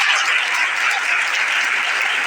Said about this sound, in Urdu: زوردار تالیاں بجائیے.